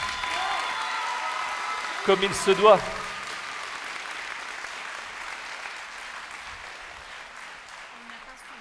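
Audience applause at a regional final of a French thesis-in-180-seconds competition, a broad steady clapping wash that fades gradually over several seconds, with a brief burst of a voice speaking over it early on.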